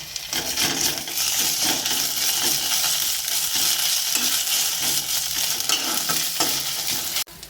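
Chopped onion frying with ginger-garlic paste in oil in a pan, a loud, dense, continuous sizzle with faint stirring scrapes throughout, ending in a sudden knock.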